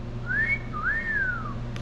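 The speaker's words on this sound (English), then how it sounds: "Pretty good whistle, huh?" A person whistles a clear, close tune of two long sliding phrases, rising then falling, over a steady low hum in a garage where a 1955 Chevy is being worked on.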